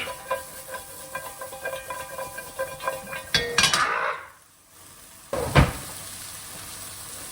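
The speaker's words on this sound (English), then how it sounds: "mix it all around in there. So all the vegetables get an even coating" Carrots and broccoli get stirred in butter in a pan, a sizzling fry with repeated scrapes and clinks of a utensil, then a sharper clatter of the pan near the end.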